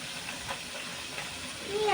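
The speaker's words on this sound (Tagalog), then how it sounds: "Ayan ang kulo ng ating alokbate." Nilagang alugbati soup boils in a pot, giving a steady, soft, hissing bubble that swells slightly near the end, with a voice faintly present under it.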